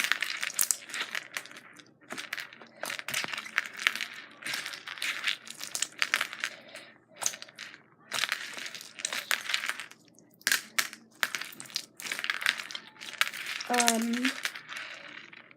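Squishy, crinkly squelches of jiggly slime mixed with beads, kneaded close to the microphone in irregular bursts with faint clicking of the beads and some brief quiet talk between squishes.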